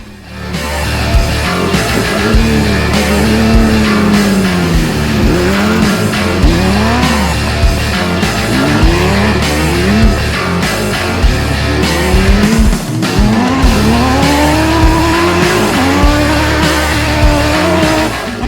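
An off-road racing buggy on Mickey Thompson tyres in the Bencubbin 400 desert race: a loud engine revving hard and continuously, with repeated rising and falling gear-change sweeps and occasional tyre scrabble, close by throughout.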